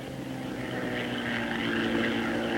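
A Bell P-39 Airacobra propeller fighter in aerobatic flight, its engine a steady, loud, droning roar with a constant pitch that holds without a break and carries no voices.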